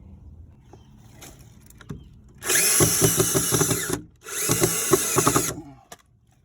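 A power drill drives screws into a piece of 2x6 lumber during a deck stair repair, running in two loud, sustained bursts of whirring with rattling bit chatter, separated by a short pause, with quieter handling noise before and after.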